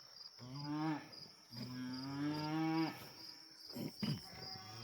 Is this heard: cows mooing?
yes